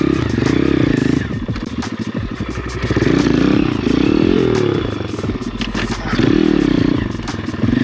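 An Amazon-bought dirt bike engine revs hard again and again during wheelie practice, each throttle blip rising and falling close by, with some rattling clatter between pulls.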